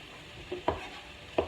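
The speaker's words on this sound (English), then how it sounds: "I'm going to add my onions, both my regular and green onions" Chopped regular and green onions for an enchilada casserole are stirred in a pan, with a few distinct scrapes and clunks of the utensil over a low background hiss.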